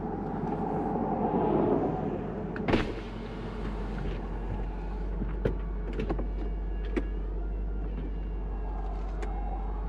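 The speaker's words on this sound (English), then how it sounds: "let's get this roof off" A steady low mechanical whir with intermittent clicks and clunks as the roof motor of a 2021 Lexus LC 500 Convertible folds the top, over an idling engine.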